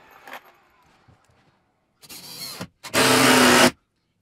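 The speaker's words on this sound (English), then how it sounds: "Now further secure it with some screws." A power drill drives screws into bathroom wall framing in a tiny house build, with a short whir followed by a longer, louder burst of motor noise, close by after near silence.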